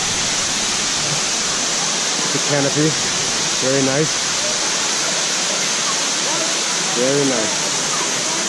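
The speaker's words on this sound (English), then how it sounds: "It's the waterfall area here." Kawasan Falls waterfall in Bohol, a constant broad rushing roar of falling water filling the scene, with people talking briefly over it.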